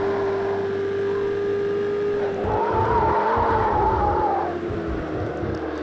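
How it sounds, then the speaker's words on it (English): Racing car in a Project Cars 2 replay at Hockenheim, engine droning steadily, then a loud wavering tire squeal from locked brakes rising and falling for about two seconds before fading back to engine noise. "I'm not really locking the brakes like that, you know, that's just the sound from the replay"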